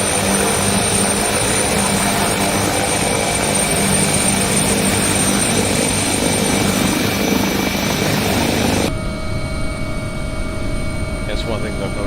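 Helicopter in X-Plane 11 flight simulator, a loud continuous engine and rotor drone with steady tonal whine, holding level before dropping to a quieter tone near the end.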